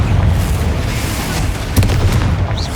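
A Confringo fire spell bursts in a tomb in Hogwarts Legacy, a loud, dense rumbling boom that fills the whole stretch, swelling again with a sharp crack partway through.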